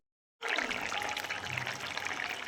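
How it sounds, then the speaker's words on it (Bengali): Water is poured into a pan of rohu fish curry with potato, eggplant and lentil dumplings, a steady, close splashing pour that starts abruptly and runs on for about two seconds, with no talking. "আমার জল দিয়ে দিলাম"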